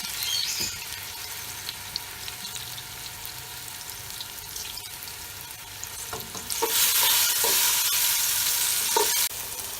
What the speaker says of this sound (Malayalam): നെയ്യ് ചെറുതായി ചൂടായി വരുമ്പോൾ നമുക്ക് നമ്മുടെ അരിഞ്ഞു വെച്ച ഏത്തപ്പഴം ഇട്ട് കൊടുക്കാം